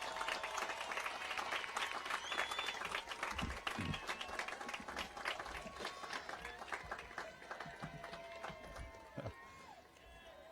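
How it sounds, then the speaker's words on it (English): Crowd at a high school commencement giving a long, steady round of applause, dense clapping throughout with scattered cheers and voices, gradually thinning toward the end. "give all of your family, friends, supporters who'd help you get here today a great big round of applause"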